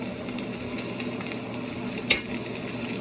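A seared steak, flipped over and browning in a hot pan, sizzles steadily and evenly, with one brief sharper pop near the end of a few seconds.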